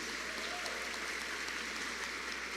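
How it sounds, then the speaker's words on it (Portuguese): A church congregation applauds, a steady, even wash of many hands clapping that stays quiet and somewhat distant for the whole stretch, with no talk over it. "E eu quero uma salva de palmas aí para esses irmãos,"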